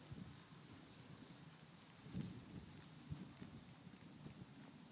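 A horse walking on a loose rein, with steady muffled clip-clop hoofbeats in an even rhythm, quiet and fairly distant, with faint chirping in the background.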